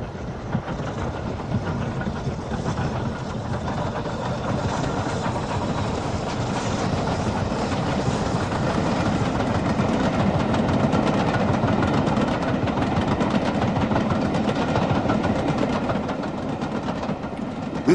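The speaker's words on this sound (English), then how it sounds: "The final 9F, also preserved directly out of service, is Evening Star, seen here on an excursion from Scarborough to York" Preserved BR Standard 9F steam locomotive Evening Star, the last steam engine built at Swindon in 1960, hauling an excursion train from Scarborough to York, with a steady, loud, continuous rumble of the train and faint rhythmic rail clatter throughout.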